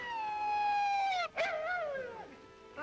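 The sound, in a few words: dog howling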